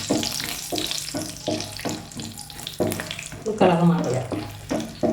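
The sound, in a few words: nuts frying in a pan for tender coconut payasam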